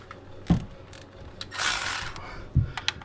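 Ratchet with an 8mm socket loosening a bolt on a Ford F150 3.5L engine during valve cover gasket work: a few short ratcheting bursts with clicks and a brief rubbing metallic whirr, close and fairly quiet, no talk.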